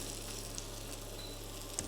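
Lamb chops searing in a hot pan, a brief steady sizzle with light crackles and one small pop near the end, heard alone.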